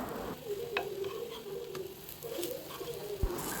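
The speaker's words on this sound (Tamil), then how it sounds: "இதே மாதிரி நல்லா பொன்னிறமாக வர வரைக்கும் 2 சைடும் பெரட்டி நல்லா ஃப்ரை பண்ணி எடுத்துக்கலாம்" Vegetarian fish fry sizzles in a pan, a steady soft frying hiss with faint tapping, while a bird coos quietly in the background.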